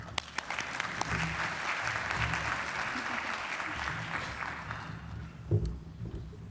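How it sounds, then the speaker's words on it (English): An audience at a science and society address applauds to welcome a returning speaker to the stage, steady dense clapping filling the room throughout and fading slightly near the end. "it's wonderful to get a round of applause for introducing someone."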